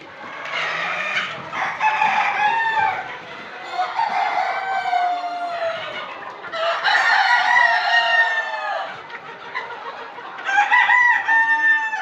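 Sonali breed chickens and roosters on a poultry farm near the Nepal border cluck and crow continuously and loudly, several birds calling at once in overlapping bursts, with no talk.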